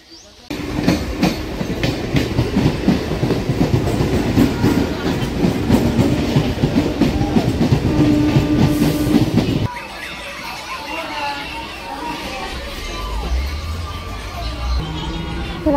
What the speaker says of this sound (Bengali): বনগাঁও লোকালটাও ঢুকছে।